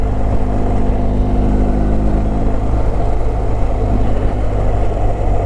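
A BMW R 1250 GS motorcycle with an aftermarket exhaust drones loudly and steadily while riding, its exhaust rumble mixed with constant wind rush.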